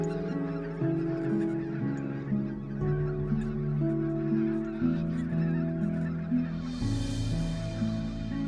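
A flock of greylag and white-fronted geese honking continuously, overlapping nasal calls from many birds close by, with a rising rush of wingbeats or water near the end; no voices.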